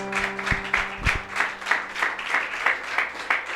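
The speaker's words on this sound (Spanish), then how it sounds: "¿Por qué no le damos un fuerte aplauso a nuestros pastores?" Congregation applauding its pastors at a church service, a steady rhythmic wash of clapping with regular swells, over a low sustained instrumental tone.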